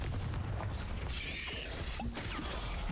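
A Confringo explosion spell cast in the video game Hogwarts Legacy, a dense, loud burst of rumbling blast noise with crackling and mechanical clatter throughout, no voice.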